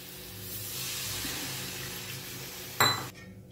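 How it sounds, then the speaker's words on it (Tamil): Water is added to prawn thokku in a pan and stirred in, a soft continuous wash of liquid ending in a brief clink and splash near the close. "தண்ணி சேர்த்து நல்லா கலந்துட்டேன் நானும்."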